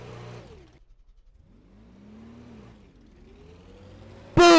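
A Hummer drives along in the Brick Rigs video game, its mid-pitched engine rising and falling steadily at moderate loudness, then ending in a sudden loud crunching impact at the close.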